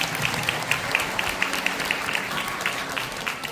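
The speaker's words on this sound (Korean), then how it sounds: "여러분 큰 박수 부탁드립니다." Wedding guests at a church ceremony applaud in a steady, moderately distant patter of many hands, with a faint rhythmic tapping running through it.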